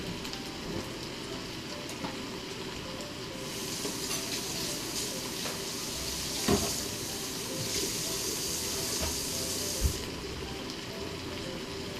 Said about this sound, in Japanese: では炒めて終わりです。